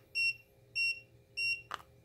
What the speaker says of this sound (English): It'll beep like that